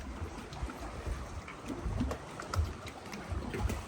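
An outboard motor runs steadily on a boat on Lake Superior, a low continuous rumble with water wash and wind noise, fairly close and without talk.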